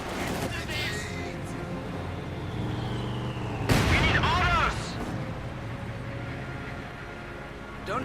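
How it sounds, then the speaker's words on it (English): Mortar fire in a Company of Heroes 2 one-versus-one match: a sharp, loud burst lands midway through a constant rumble of battle noise, with a commentator talking throughout. "More mortar fire now"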